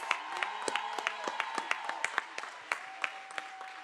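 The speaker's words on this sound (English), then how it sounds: "big round of applause for our graduates" Applause rises for graduates at a YouthBuild St. Louis City commencement. Sharp individual claps stand out near and distinct over a fainter crowd, with quiet talk beneath.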